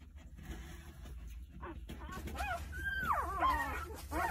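Nine two-day-old Jindo puppies nestled against their mother whimper and squeal in thin, rising high-pitched cries, several overlapping calls growing busier toward the end, close and faint.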